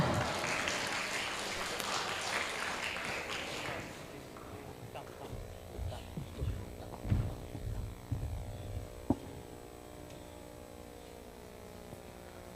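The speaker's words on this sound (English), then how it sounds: "please welcome and give applause Bapak Arif Darmawan" Conference audience applause welcoming speaker Arif Darmawan rises loud for the first few seconds, then fades away, leaving a low steady hum.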